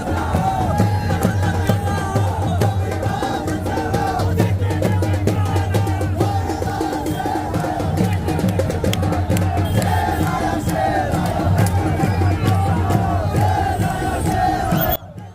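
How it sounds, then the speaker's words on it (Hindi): A large crowd of young supporters chants slogans loudly and repeatedly at a political nomination rally outside a district collector's office, the roaring voices rising and falling in waves for the full stretch before cutting off abruptly. "इस भीड़ में अगर आपने नारों को गौर किया हो तो नारे गूंज रहे थे"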